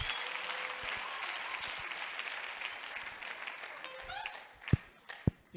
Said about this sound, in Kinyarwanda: nimukomere Imana amashyi menshi.